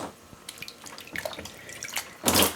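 Water rinses out a freezer during a clean-out after a long power outage, with splashing and running water under light clatter, building to a louder gush near the end.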